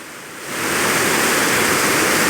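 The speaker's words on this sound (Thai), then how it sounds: "ตอนนี้กระแสน้ำไหลเชี่ยวมากครับ" Swift water pours over an overflow weir at Ban Samut, Prasat district, Surin, making a dense, continuous rushing roar that swells within the first half second and then holds steady, with no voices.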